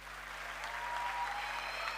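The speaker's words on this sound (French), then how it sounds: "Et notre clin d'œil, ce sont des applaudissements pour lui." A crowd at an academic degree-conferral graduation ceremony gives a short burst of steady, fairly soft clapping.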